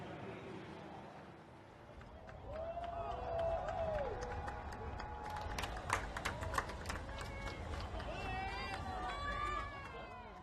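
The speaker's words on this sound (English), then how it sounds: "Huge cheer from the crowd." A large trackside crowd cheers for Lewis Hamilton after qualifying at the Singapore Grand Prix, a sustained roar with scattered claps and shouts that swells midway, under someone speaking nearby.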